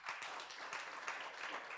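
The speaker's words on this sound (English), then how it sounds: "Professor Mcebisi Ndlechana, please give him a round of applause." At a colloquium honouring Ambassador Andrew J. Young, an audience offers a short round of applause, with soft, fairly faint clapping heard from a distance.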